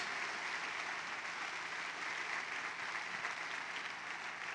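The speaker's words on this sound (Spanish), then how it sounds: "Denle un aplauso al Señor." Congregation applauding during a church sermon: a steady, dense wash of clapping that holds at an even level for several seconds with no voices over it.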